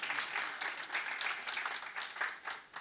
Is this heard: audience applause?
yes